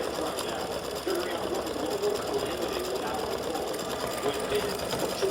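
An embroidery machine stitches a St Patrick's Day hat design in satin stitch, giving a fast, steady mechanical whirring and chattering while a voice talks over it.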